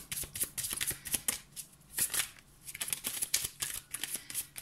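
Tarot cards are shuffled and drawn by hand, producing quick riffling flutters and soft snapping bursts in close, irregular clusters, fairly quiet, with no talking.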